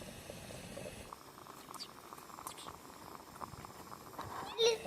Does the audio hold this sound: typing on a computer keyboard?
no